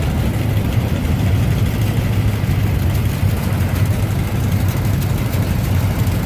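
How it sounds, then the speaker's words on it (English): A mid-1950s John Deere 50 tractor engine runs steadily, a loud, continuous low chugging drone with an even mechanical pulse and no pauses. "And another young lady on an old John Deere. That's a mid-50s model."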